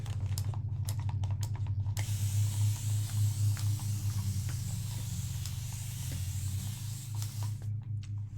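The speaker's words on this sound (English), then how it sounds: "Just going to spray it like that." Liquid from a spray bottle hisses during a burn-paste transfer job, set against a steady low mechanical hum, with no one talking.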